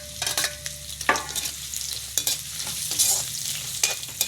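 Potatoes fry in a pan with onion added, giving a steady close sizzle broken by repeated scraping stirs of a spatula against the pan.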